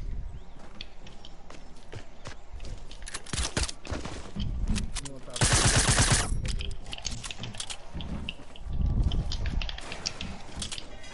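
Gunfire in Fortnite, including a shotgun, with a loud burst of shots near the middle and scattered sharp reports around it, over game noise with voices at times.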